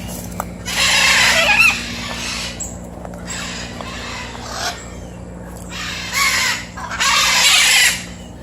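A pair of birds call loudly outdoors in repeated harsh, crow-like bursts of about a second each, with short quiet gaps between them over a steady low background hum.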